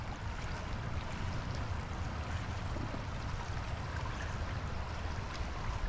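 A flooded river rushes steadily past submerged shrubs in a park, a continuous broad roar of churning water close by with no pauses across the whole stretch.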